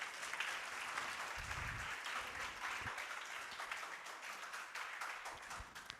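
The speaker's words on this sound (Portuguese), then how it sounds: "Dá uma salva de palmas ao nosso irmão" A church congregation breaking into applause, a dense, steady wash of many hands clapping that fills the room at moderate volume for several seconds, with a few faint low thumps mixed in.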